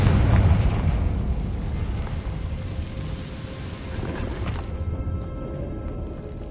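A Confringo blasting spell explosion in an abandoned underground passage in Hogwarts Legacy, opening with a loud, close boom that decays into a long rumbling, crumbling tail.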